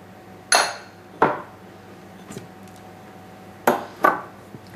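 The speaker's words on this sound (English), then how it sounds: "Give them a quick mix." Flour, cocoa powder and other dry ingredients for Toblerone chocolate muffins being mixed in a bowl in a home kitchen; four sharp utensil clinks against the bowl come in two spaced pairs, with quiet stretches between.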